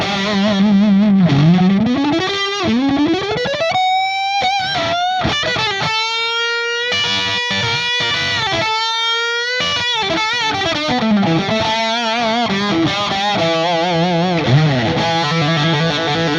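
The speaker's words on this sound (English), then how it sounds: "I'll turn up the drive and the level on all the pedals to 3 o'clock and see what that does to the sound" Electric guitar through an Ibanez TS808 Tube Screamer overdrive with drive and level set high, playing sliding bends and melodic lead runs with saturated, sustaining tone, loud and continuous with no talking.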